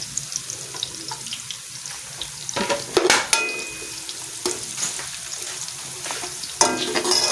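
Ginger and garlic fry in masala for egg kofta curry, a continuous sizzle broken by several sharp stirring scrapes and clinks of a spoon against the pan.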